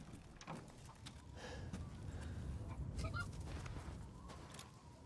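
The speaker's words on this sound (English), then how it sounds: "I think I gotta kill the chickens for meat" Chickens cluck and squawk in a farm scene of the video game Resident Evil Village, a few faint overlapping calls over a low rumbling ambient background.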